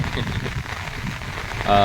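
Heavy rain pours steadily onto surfaces in a dense, close wash of noise with no break, with a brief tonal sound rising at the very end.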